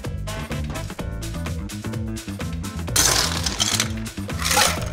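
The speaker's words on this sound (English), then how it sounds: "Add some ice." Ice cubes go into a cocktail shaker holding gin for a Tom Collins, making a run of close, hard clinks and clatters, with a louder burst of rattling partway through.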